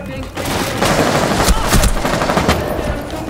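Rapid bursts of gunfire from the video game Rainbow Six Siege, loud and close, firing in quick succession across the clip with faint voice chat underneath.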